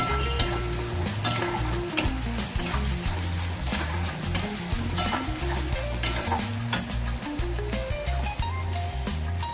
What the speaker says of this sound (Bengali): মশলাটা পুরো একদম ভাজা ভাজা হয়ে গেছে আর তেলও ছেড়ে গেছে